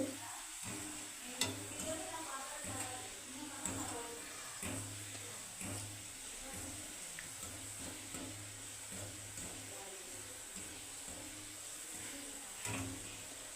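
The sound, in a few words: carrots frying in oil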